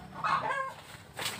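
Chickens kept above a goat pen give a couple of brief clucks, fairly faint and close together, with no talk.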